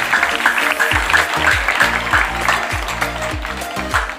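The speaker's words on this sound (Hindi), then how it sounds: "ताली बजाते रहेंगे आप लोग," Audience clapping at a prize distribution ceremony for dance participants, a steady continuous patter with music playing loudly underneath throughout.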